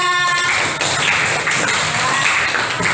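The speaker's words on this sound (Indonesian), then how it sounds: "Tepuk tangan untuk nomor 3" Classroom applause for a student group, a dense continuous patter of many hands clapping, with some thumps and shuffling and faint voices mixed in, fairly loud and steady throughout.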